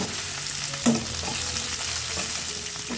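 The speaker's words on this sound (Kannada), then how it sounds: "ನೋಡಿ ಈ ಥರ ಎಲ್ಲದನ್ನು ಚೆನ್ನಾಗಿ ಫ್ರೈ ಮಾಡ್ಕೊಬೇಕು" Cut dried red chillies fry in a pan with other ingredients for a tomato dish, giving a steady hissing sizzle with a soft knock near the start and light stirring scrapes.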